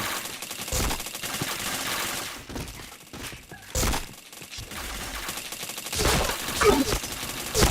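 Rapid bursts of video game gunfire from an online shooter rattle through the mix, with sharp volleys and brief lulls, steady and fairly loud, with faint voices under it.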